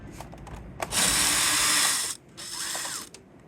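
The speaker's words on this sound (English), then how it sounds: "you got to use your screwdriver. This is a DeWalt 12 volt brushless Xtreme." Two whirring bursts from a DeWalt 12 volt brushless electric screwdriver, the first longer and the second shorter, separated by a pause with a few light clicks, close and fairly loud.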